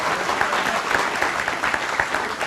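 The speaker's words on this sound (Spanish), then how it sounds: "¿Por qué no damos un fuerte aplauso?" A crowd at a gathering claps strongly and continuously, a dense, even burst of applause filling the room with no break.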